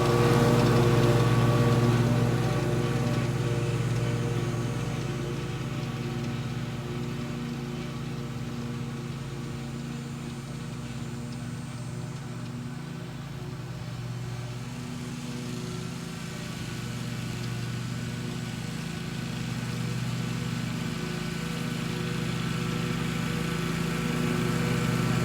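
A lawn mower drones steadily while cutting a large open estate lawn, a continuous loud engine hum with a low, even pitch that holds for the whole stretch with no voices.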